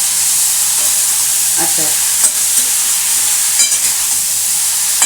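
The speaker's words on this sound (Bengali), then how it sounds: "বেগুনে একটু তেল লাগে, নাহলে ভাজাটা ভালো হয় না" Eggplant slices frying in oil for a masala begun bhaji, a steady close sizzle and hiss with occasional stirring scrapes, and a brief spoken word from the cook.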